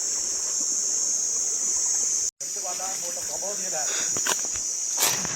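Water running straight from a pond over shiny stones in a Vanni forest stream near Mullaitivu, a soft continuous trickle under loud insect drone, with brief splashy footfalls and a short dropout midway.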